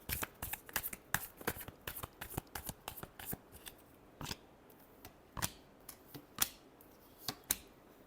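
Tarot cards shuffled by hand in a quiet room, giving a run of crisp, sharp riffling slaps and flicks at an uneven rhythm over roughly eight seconds, close and clear with no talking.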